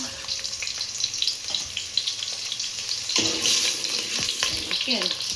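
Chopped onions sizzle in oil in a pan on a stove, a constant close crackle with occasional stirring scrapes and a surge of louder frying partway through.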